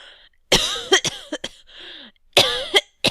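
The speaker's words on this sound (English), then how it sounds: "How long have you had that cough?" A man coughs in several harsh, wet bursts, close and loud, spread across a few seconds with short pauses and throat-clearing between the fits.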